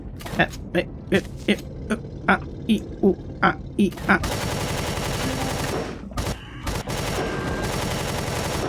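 Weapon fire in the space survival game Empyrion: a rapid string of evenly spaced gunshots gives way to a sustained roaring automatic blast with brief gaps, while a voice talks over it.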